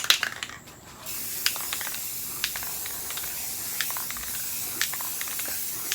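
Clear coat sprayed from a brand new aerosol can, a steady hiss running through most of the clip with brief quiet gaps, close and fairly loud.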